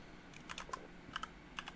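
Faint keystrokes on a computer keyboard sound in short irregular bursts of light clicks, close but quiet, with no talking.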